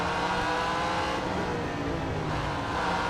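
Real Racing 3 video game car engine revving with a steady, loud, continuous drone that holds near-constant pitch throughout.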